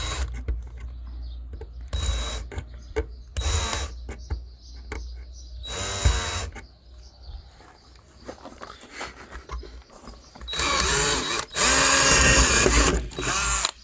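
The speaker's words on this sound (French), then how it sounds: "Donc du coup, on va percer les anciens rivets." A power drill boring out old rivets during restoration of a BMW 318is E36, coming in short bursts of whirring with pauses between, closing in a longer loud run near the end.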